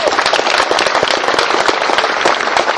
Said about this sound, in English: let's give him another round of applause for his hard work